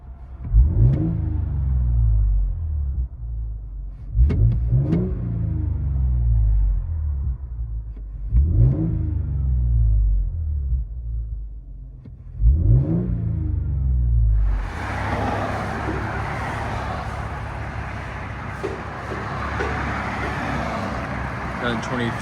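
Inside the cab of a 2023 Toyota Tundra 3.4L twin turbo V6 with Carven R-Series exhaust, four quick muffled revs swell and drop over the idle, then give way to a steady broad road-like roar.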